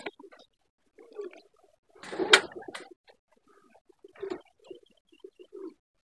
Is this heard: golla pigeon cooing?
yes